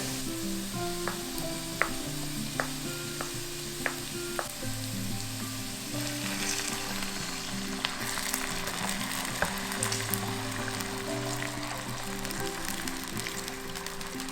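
Water is poured into a hot pan of fried mushrooms, potatoes and cabbage, and the steady sizzle of frying swells into a louder, hissing, bubbling rush partway through, close by, with faint background music.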